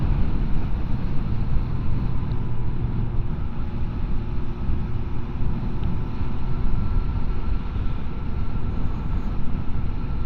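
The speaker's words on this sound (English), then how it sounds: "when you're up in the revs a bit more, you get a bit of vibe buzzing through the seat" Riding a 2025 Benda LFC700 motorcycle on the road, a steady engine drone and buzz mixed with rushing wind noise holds evenly throughout, with no talk.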